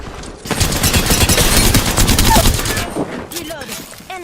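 Rapid bursts of gunfire in an Apex Legends match, sustained automatic shots crackling for several seconds before tapering off, with in-game voice callouts.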